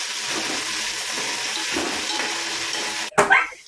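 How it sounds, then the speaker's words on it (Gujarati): Potatoes fry in oil for a vegetable biryani, a loud, steady close sizzle that runs unbroken until a sudden metallic clatter of the pan near the end. "બટેટા થોડી વાર સડવા દેવાના છે મિક્સ થઈ જવા દો તેલમાં ફ્રાય થઈ જવા દો"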